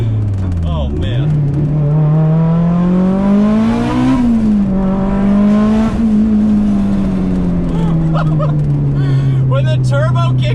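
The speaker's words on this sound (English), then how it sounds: "When the turbo kicks in, it accelerates really fast." An 800 WHP turbocharged Mitsubishi Evo 8 pulls hard, its loud engine note climbing in pitch through several gear changes, dipping briefly at each shift before rising again.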